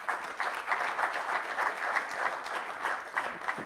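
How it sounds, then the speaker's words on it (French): A seated audience at a French sports launch evening applauds, with moderately soft, steady clapping that runs continuously, somewhat distant in the room. "Je pense qu'on peut les applaudir aussi"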